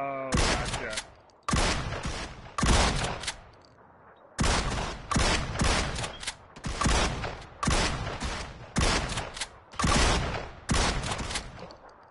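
Sniper rifle fire in PUBG on PS4 booms out as about eight loud, heavy single shots, each roughly a second apart and trailing a long echoing decay, with brief gaps of quiet between them.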